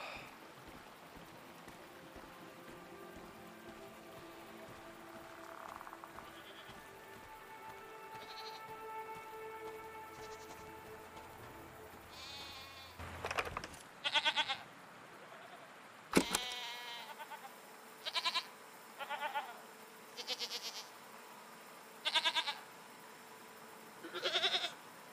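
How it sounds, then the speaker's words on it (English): Goat-like creatures in the video game Season bleat in a run of short, clear calls that start about halfway through, following quieter ambient sound and a brief rush of noise. "What are these strange goat-like creatures? Are they simply goats?"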